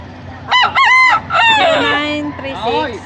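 A rooster at an outdoor pet market crows loudly and close by in several strained, wavering calls, with clucking from other fowl mixed in and general market noise behind.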